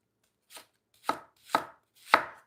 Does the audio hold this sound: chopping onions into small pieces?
yes